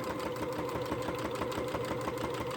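A sewing machine stitches steadily in a fast, even mechanical rhythm, close and continuous, with no talking.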